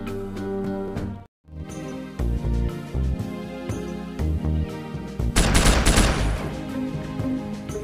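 Gunfire at a shooting range in the WWII strategy game Faces of War, with an M26 Pershing tank being tested: dense bursts of automatic fire and heavy shots, a brief silent gap, then a louder, harsher burst near the end.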